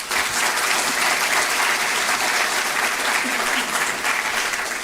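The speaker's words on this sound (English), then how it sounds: "I think just about now would be the perfect time for a round of applause" Steady, dense applause from an audience at the launch of the Digital Shakti 4.0 campaign, loud and sustained throughout with no break.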